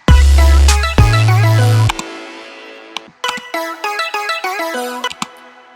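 Bright synth chords ring out over a deep bass note, then a quick stepping melody of stacked tones plays in short, punchy hits.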